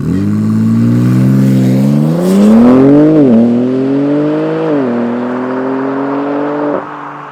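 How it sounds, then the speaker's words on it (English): A Mercedes-Benz or BMW inline-six car engine revs loudly and close up, its smooth tone climbing in repeated pulls and easing back, with a sharp drop near the end. "Add another 2 cylinders and you get the operatic sounds of an inline 6 from Mercedes-Benz."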